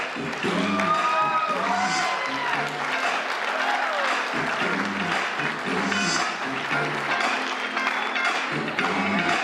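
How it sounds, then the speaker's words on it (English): Wedding guests give a warm, sustained round of applause for the bride's parents, a steady roar of many hands filling the reception room, while an announcer's voice carries over it. "a nice warm round of applause for your parents and the bride, Carl and Christina Schemberg"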